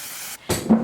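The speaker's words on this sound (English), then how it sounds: "I'm gonna go in with the One Size Until Dawn Mattifying Waterproof Setting Spray" A short burst of One Size Until Dawn mattifying waterproof setting spray hisses from the bottle, with a soft, close spray, a brief pause, then a second louder burst.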